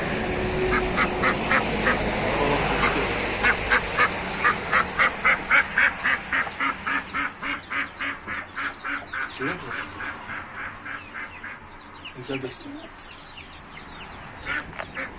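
A farmyard duck quacks in a long, steady run of evenly spaced calls, close and loud, with a person speaking briefly over the first seconds and other poultry sounds nearby.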